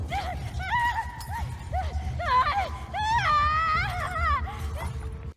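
An enemy in The Last of Us Part II rolls on the ground after losing a limb, screaming and wailing in long, strained cries over low rumbling game noise, moderately loud and close.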